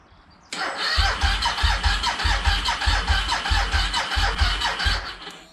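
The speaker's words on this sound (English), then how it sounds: "Well, she's cranking, which is a good sign." Suzuki SV1000S motorcycle engine cranking on a weak battery, a loud steady starter-motor churn with rhythmic pulsing compression beats that begins abruptly and continues for about five seconds without catching.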